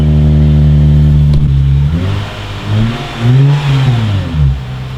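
A car with a loud aftermarket exhaust fires up for its first start, settling into a deep, raspy idle before a few sharp revs rise and fall close by.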